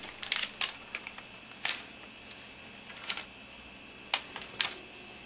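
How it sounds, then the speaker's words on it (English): Plastic packaging of a new PS3 replacement hard drive being opened close up: a string of short, sharp crinkles, clicks and rustles in uneven bursts, with no talking. "We'll open the new hard drive"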